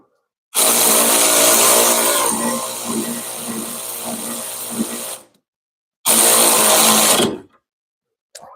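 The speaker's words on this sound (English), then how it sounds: "Sorry, we're going to do power tools here." Loud power tool whirring during suspension re-assembly on an MR6, one long high-pitched run of about five seconds that eases partway through, then a shorter second burst after a pause.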